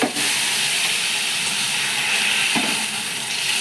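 Cold water hits hot frying spice paste for bhetki fish biryani, and a loud, steady sizzling hiss carries on close for the whole stretch.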